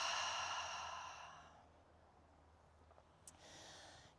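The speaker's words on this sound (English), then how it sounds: "Take a big inhale and an exhale out through the mouth." A slow, audible breath: a long, soft exhale through the mouth trails off into quiet, then a faint inhale begins, close and gentle during a yin yoga session, with no talking.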